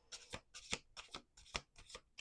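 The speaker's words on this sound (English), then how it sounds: "We're going to do 2 more shuffles." Playing cards riffle-shuffled several times in quick succession, each shuffle a soft papery burst, close and fairly quiet.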